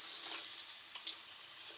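Water runs gently from a tap to rinse a rooted plant cutting, a soft, steady hiss with faint splashes as the cutting shifts under the stream, heard quietly on its own.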